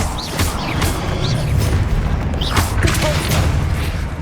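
Confringo blasting spell in the Hogwarts Legacy video game, with loud, continuous booming blasts and rumbling spell effects layered with short whooshing sounds.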